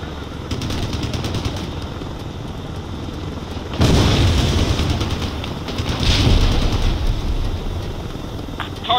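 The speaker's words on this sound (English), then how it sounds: "fire guns." Rapid automatic gunfire in a video game, loud and dense with heavy booms and explosions layered over a roaring vehicle, intensifying in bursts partway through.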